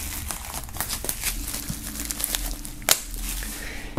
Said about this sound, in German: Bevor wir das Ganze starten, machen wir einmal die Folie ab.